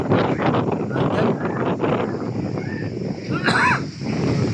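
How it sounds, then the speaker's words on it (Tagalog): Strong typhoon wind buffets the microphone in loud, continuous gusty rumbles and rustling, with a short faint whistle near the end. "Napakalakas ng hangin."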